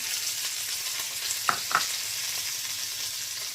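Mustard seeds splutter in hot oil for an apple and carrot pickle, a soft steady sizzle broken by a couple of sharp pops close by.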